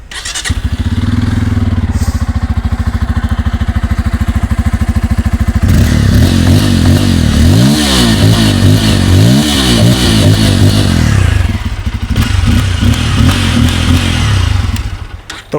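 A Bajaj Pulsar N250 motorcycle with a dual-outlet exhaust idles loudly up close, then revs repeatedly in rising and falling bursts before settling back to a steady idle.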